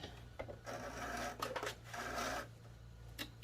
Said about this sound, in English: I want to do a back stitch, and I'm going to finish out my stitch to the end